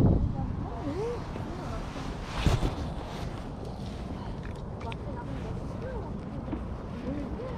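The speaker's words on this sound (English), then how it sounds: "Sure, definitely could hear the wind." Wind blowing outdoors on open water while fishing, a steady broadband rush with occasional gusts and faint bird calls in the background.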